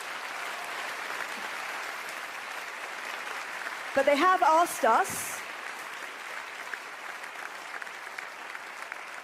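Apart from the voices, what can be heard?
audience applause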